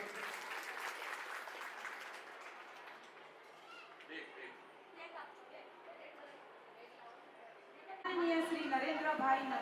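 An audience at a school annual function applauds in a moderate patter that fades gradually, followed by a burst of brighter, denser sound near the end.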